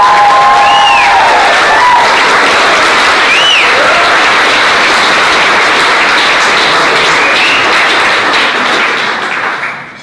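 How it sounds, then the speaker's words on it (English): Wedding guests in a reception hall give the bride loud, sustained applause, a dense roar of many hands clapping close by with some cheering mixed in, tapering off near the end. "So I think Jess deserves a huge applause for all of the hard work"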